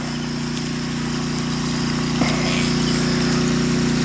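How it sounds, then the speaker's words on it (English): A water pump running steadily while draining tilapia pits outdoors, with a loud constant mechanical drone and a low hum that stays even throughout and has no talking over it. "I kicked the pump up"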